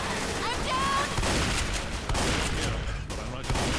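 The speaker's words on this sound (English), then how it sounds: "Why are you shooting me?" Gunfire in Left 4 Dead, a dense run of rapid shots and bursts under chaotic game noise, with voices talking over it.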